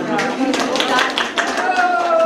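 Concert audience at a romance-song recital applauding, a dense patter of many hands filling the space, with a held sung or spoken tone running beneath the clapping.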